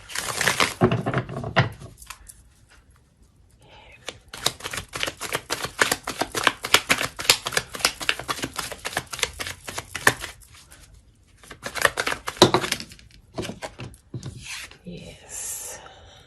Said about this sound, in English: Just going to shuffle one more time so we get a nice clean reading.